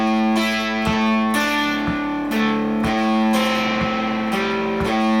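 Electric guitar with light distortion plays a riff, steady picked notes over repeated open-string plucks in an even rhythm, loud and close with no voices.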